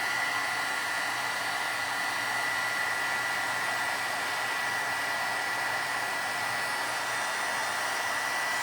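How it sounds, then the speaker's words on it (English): A heat tool blows steadily to melt embossing powder on a stamped card, a constant close, loud whooshing hiss with a fixed whine running through it and no pauses. "let me set that aside and let's heat emboss that. Let's heat that, let's melt that down."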